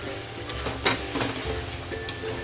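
Marinated mutton sautéed (kosha) in a pan for mutton curry. A quiet, steady sizzle comes with several brief scraping stirs spaced through the clip, without speech.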